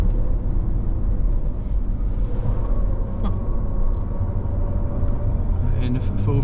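A Ford Ranger pickup's engine and tyre rumble inside the cabin on a racing circuit as it brakes hard, a steady low drone carrying under a driver's continuous talk.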